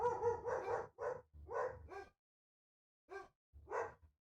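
A dog barks close by and loudly, with a quick run of five harsh, tonal barks, then a pause of about a second and two more barks. No one talks over it.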